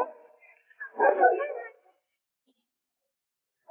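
Ten-day-old Chinese native five-black puppies let out a few brief, close whimpers and yips, with a longer whine in the middle and silence between.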